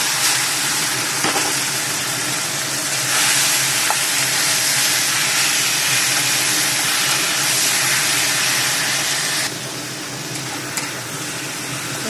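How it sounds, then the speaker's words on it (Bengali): Boiled water spinach fries in hot oil with dried chillies and garlic, a loud, bright, continuous sizzle that hisses strongly for about nine seconds, then drops to a softer crackle as stirring continues. "দেখুন শাক ভাজা হয়ে গেছে আমার।"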